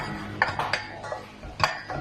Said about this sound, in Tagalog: So, gisayin muna natin yung sibuyas.